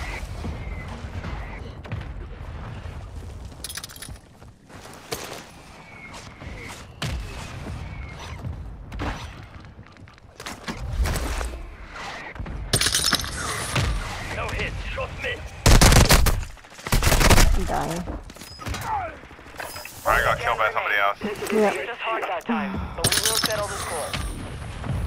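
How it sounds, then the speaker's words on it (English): A mortar strike in an online duos shooter game hits with several heavy booming blasts amid scattered gunfire, while players talk over the action. "Mortar strike on the way."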